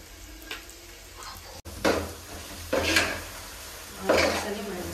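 Chicken masala for biryani sizzles steadily in a hot pan, with a spoon scraping through it in three distinct stirring strokes, close and moderately loud.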